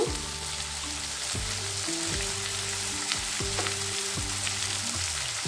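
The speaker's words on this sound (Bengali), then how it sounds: "টমেটোটাকেও আমি 30 সেকেন্ড নাড়িয়ে নিলাম পেঁয়াজের সঙ্গে।" Chopped tomato and onion sautéing together in a pan, a steady close sizzle with repeated stirring scrapes at an uneven rhythm.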